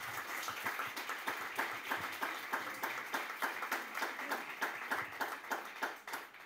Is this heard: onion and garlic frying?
no